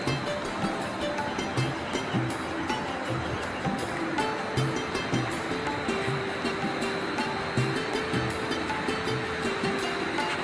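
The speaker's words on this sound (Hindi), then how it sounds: "ये पास में बह रही है सरयू नदी।" The Saryu river flows nearby along a mountain road in Uttarakhand, a steady broad rushing wash of water that stays constant throughout, with faint passing traffic in the background.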